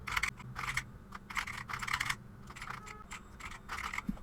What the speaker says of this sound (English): Here, simply type the header text, whatever you want.